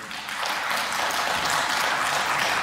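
Applause breaks out in the Armenian parliament during an impeachment-related session, a dense, sustained patter of many hands that builds quickly and holds steady, heard from within the chamber.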